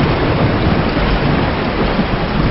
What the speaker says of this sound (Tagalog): Lumalakas na yung ulan eh.